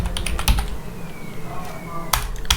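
Computer keyboard typing while HTML code for a contact form is written, quick close key clicks in short bursts with a pause in the middle, under faint room sound.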